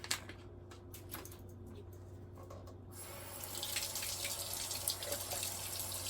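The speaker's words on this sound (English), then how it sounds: "We'll just give it a good rinse and just put it right in there." Kitchen tap running water over canned tuna for a rinse, a steady low hiss that swells into a louder, brighter gush halfway through.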